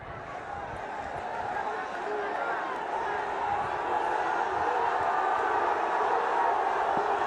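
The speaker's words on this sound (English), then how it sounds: "Now the crowd getting in on the act." A stadium crowd at a Bangladesh vs New Zealand one-day international cricket match roars in a steady, dense wall of cheering and shouting that swells slightly toward the end, with no break.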